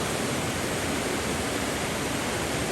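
Broad, steady rushing roar of a fast-flowing river swollen by floodwater after heavy rain, loud and close, constant with no breaks and no voices over it.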